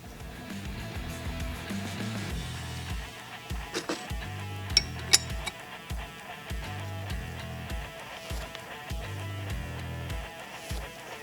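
A ratchet wrench tightens a hydro assist hose fitting on a Jeep XJ until it bottoms out, with repeated rhythmic clicking strokes and a couple of sharp metallic taps, close and moderately loud.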